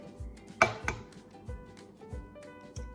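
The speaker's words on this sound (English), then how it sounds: "Then you crack your egg into the mug" An egg cracked against a mug while making a mug cake, a few sharp ceramic taps and clinks, close and fairly quiet, spread over a few seconds with no talking.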